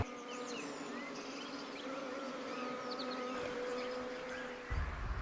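Bees buzz in a steady, continuous drone close by, with faint chirping birds in the background.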